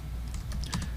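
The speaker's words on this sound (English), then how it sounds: "I'm going to type it in" Computer keyboard typing, a quick run of soft key clicks at close range, fairly quiet and with no voices over it.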